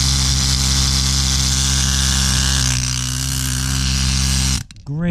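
A pneumatic needle scaler hammers at a steady, loud buzz while stripping rust, paint and grease from a surface, running continuously up close before cutting off abruptly near the end.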